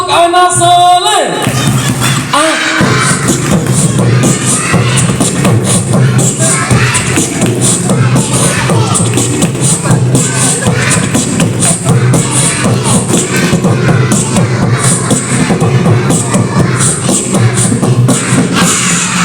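Children in a storytelling session clap and sing the 'tepuk anak soleh' chant together, a loud, sustained mix of rhythmic clapping and crowd voices that carries from start to finish.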